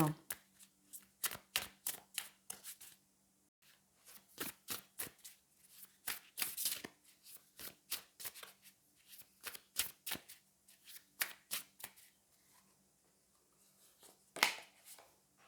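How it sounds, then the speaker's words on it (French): Tarot cards shuffled close by, a dense run of crisp slapping riffles and flicks coming in quick clusters with short pauses between them, against a faint steady hum. "on va aller prendre une autre carte"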